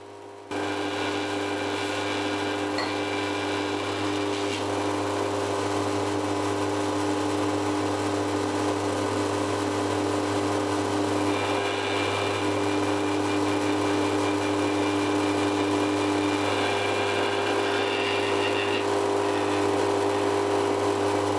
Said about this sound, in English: we've now got 24 holes that we need to countersink to that depth, which will be very easy because the drill is set up ready.